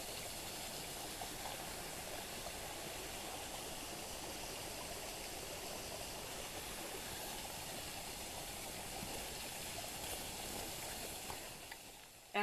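Tea Kettle Falls waterfall gives a steady, close, full roar of rushing water with no break for the whole stretch, ending in one brief thump.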